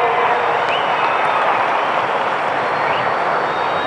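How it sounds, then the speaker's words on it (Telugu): A large crowd at the Amaravati foundation ceremony applauds the Prime Minister in a dense, steady roar of clapping that holds for the whole stretch. "దీనికి మనందరం కూడా మనస్ఫూర్తిగా గట్టిగా చప్పట్లు కొట్టి ప్రధానమంత్రి గారిని"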